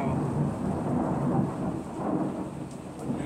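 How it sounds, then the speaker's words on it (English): Thunder rumbles low and continuously through a storm, loud and close, with rain hissing steadily underneath. "Told you I was gonna hit thunder and lightning."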